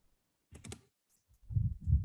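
A few quick clicks on a computer keyboard while a cost center code is typed in an office, a brief cluster of taps followed by two heavier, low thumping bursts.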